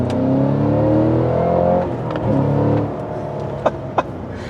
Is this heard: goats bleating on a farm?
no